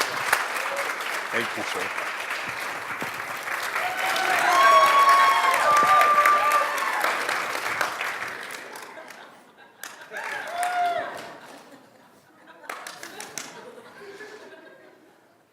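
Audience applause for someone at a hall of fame event, a loud sustained round of clapping with some laughter that fades out, followed by a brief spoken thanks.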